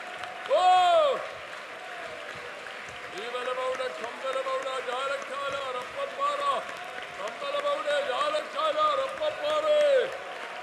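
A congregation at Sunday worship at IPC Prayer Centre, Thiruvalla, claps and loudly calls out praise, with crowd applause under raised, sustained voices throughout.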